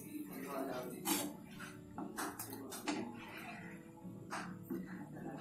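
Spoon clinks and scrapes against a kadhai as mushroom masala is stirred, with sharp metallic taps scattered over a low steady cooking hiss, fairly close.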